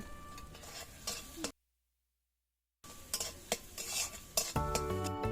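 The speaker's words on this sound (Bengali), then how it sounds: "এবার মশলাটিকে ভালো করে কষাতে থাকবো" Paneer butter masala spices being stirred and fried in a pan, with close scraping and clinking of a spoon over a soft sizzle; the sound cuts out briefly in the middle, then the stirring resumes.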